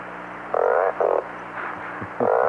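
Rasping frog croaks made with a tin can fitted with a drum head and a rosined string, in short loud bursts of raspy pulses with gaps between, close and alone.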